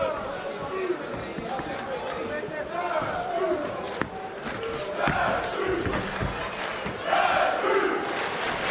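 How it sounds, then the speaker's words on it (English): Arena crowd at an MMA fight in Denmark, a dense, sustained roar of cheering and shouting that swells in waves, with a commentator talking over it. "And the crowd here in Denmark firmly behind their fighter."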